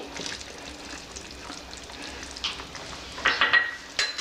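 Tomato tipped into a pot of mutton curry seasoned with turmeric, chilli and salt, over a steady low sizzle, with a few close metal clatters and scrapes toward the end.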